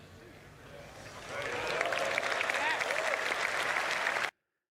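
Audience applause at the CitizenCon 2024 presentation, clapping that builds after a second into sustained dense applause with some cheering, then cuts off abruptly; a voice talks faintly underneath.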